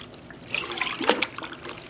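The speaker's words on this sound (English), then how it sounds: "I'm gonna add 1 cup of white vinegar here into our bucket. Just pour it on top of the yarn" White vinegar poured into a bucket on top of yarn soaking for dyeing, a soft trickling and splashing pour that swells briefly in the middle, close and gentle, without talk.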